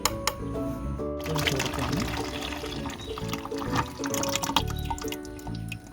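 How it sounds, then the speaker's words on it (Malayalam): A ground tea powder mixture pours into a bucket for feeding rose plants, making a continuous splashing, trickling flow with a few drips and louder gushes. Faint voice sounds sit underneath. "അപ്പോൾ നമുക്കിതൊന്ന് ബക്കറ്റിലേക്ക് ഒഴിച്ചു കൊടുത്തിട്ട് കുറച്ച് വെള്ളം ചേർത്ത്"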